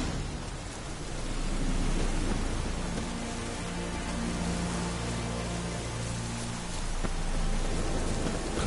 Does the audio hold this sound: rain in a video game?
yes